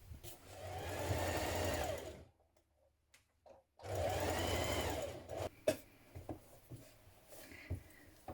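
A sewing machine stitches a pocket seam down to a centimetre from the bottom, then back tacks. It runs in two steady bursts with a pause between, followed by quieter stop-start stitching at close range, with no talk.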